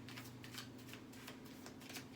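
A deck of playing cards being shuffled, a steady riffling patter of soft flicks running throughout at a constant low level, with a faint hum underneath.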